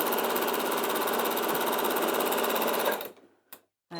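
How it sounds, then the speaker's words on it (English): A sewing machine top-stitches a bag in a loud, close, continuous run of rapid stitching that stops abruptly, followed by a couple of short clicks. "I think it looks nice to have a little bit of top stitching."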